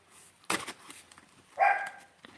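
A dog lets out two sharp barks indoors, the second louder and more tonal, with quiet room sounds between them.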